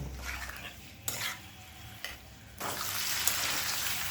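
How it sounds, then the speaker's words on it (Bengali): A spoon stirs paneer through a potato and pointed gourd curry in a pan, with soft scrapes near one and two seconds, then a steady sizzle rises and continues to the end. "এবার এর মধ্যে দিয়ে দেব পনির। পনিরটা দেওয়ার পর হালকা হাতে 1 মিনিট সময় ধরে নাড়াচাড়া করব।"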